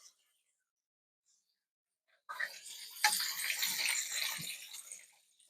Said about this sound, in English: I rinsed it out, got all the goo out of it